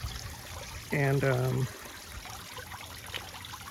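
Water from a 300 GPH pond pump trickles weakly into a small waterfall on a backyard pond with a filter kit, a steady soft splashing bed running throughout, briefly covered by a man's spoken word.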